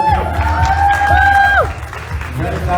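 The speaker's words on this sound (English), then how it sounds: "Round of applause." An audience claps and cheers at the Miss Universe Malta 2022 pageant crowning, a crowd wash under a tonal voice and whoops, easing off toward the end.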